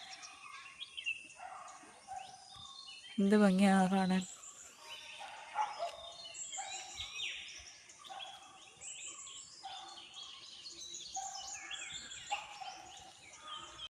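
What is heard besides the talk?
birds chirping in a garden in the morning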